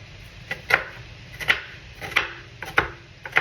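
Bell pepper being chopped with a knife on a cutting board at home: sharp, close knife strikes about every 0.7 seconds, each with a short crisp crunch, in a steady rhythm with no voices.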